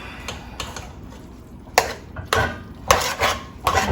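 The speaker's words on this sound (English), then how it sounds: "We need to get that a really good stir." A utensil clinks and scrapes against a bowl of eggs in quick, irregular strokes, close by with no talking.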